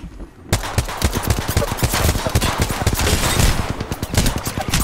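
Automatic gunfire in Apex Legends on World's Edge rattles in fast, continuous bursts, loud and close, starting abruptly after a short quiet and carrying on without pause.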